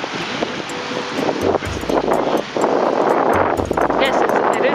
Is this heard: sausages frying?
no